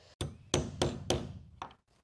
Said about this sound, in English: And then I'm going to hammer it down.